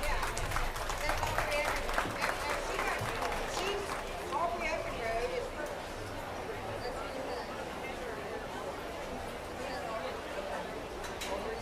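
A crowd at a youth swine market show gives a round of applause, moderately distant, with scattered clapping and crowd murmur. Talk is heard early on.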